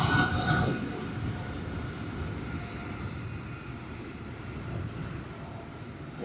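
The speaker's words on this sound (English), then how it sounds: "What a lovely takeoff on the Boeing 777-200" An Air Canada Boeing 777-200 takes off at Sydney Airport, a broad, steady jet roar with low rumble that stays fairly even and distant, heard alone without voices.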